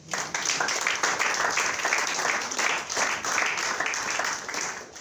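A church congregation breaks into sustained applause, dense steady clapping that fills the room, swells and eases slightly, with no clear voices over it.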